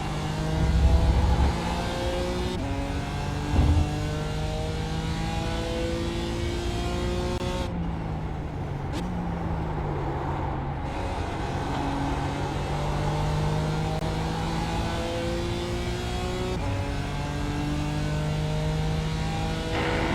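LMP prototype race cars roar through the iRacing Watkins Glen circuit, engines climbing and shifting through gears in a steady loud drone, with another car surging past and brief tire squeal amid the racing sound.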